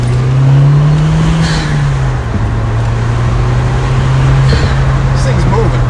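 A tuned 034Motorsport 2.0T car pulls hard in second gear, its engine drone loud and steady from inside the cabin with a sustained low tone that rises slightly under continuous road noise.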